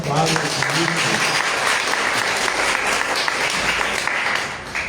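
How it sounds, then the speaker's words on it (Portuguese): Warm applause from an audience at a university history gathering, welcoming a lecturer; a steady, full crowd clapping that holds for several seconds, with faint voices briefly mixed in near the start. "uma salva de palmas para o Vinícius"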